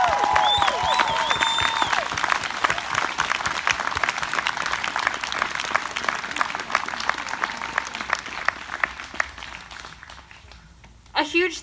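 Steady crowd applause and clapping at an outdoor Black Lives Matter rally in Mt. Horeb, sustained for several seconds, with a few voices over the start and fading out near the end.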